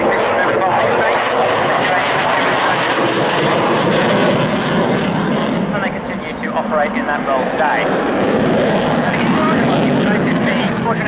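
Polish Air Force MiG-29 jet fighter in a flying display at an air show, a loud continuous engine roar filling the whole stretch while a commentator talks over it.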